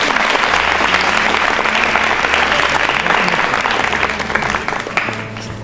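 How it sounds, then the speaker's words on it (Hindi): Loud, dense applause from an audience at a Rajasthan state quiz show round as a prize is presented, sustained clapping with a low hum underneath throughout. "तालियां जोरों से बजाइए।"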